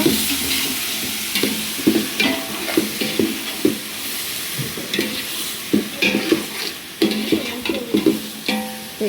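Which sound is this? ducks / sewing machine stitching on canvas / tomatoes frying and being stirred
tomatoes frying and being stirred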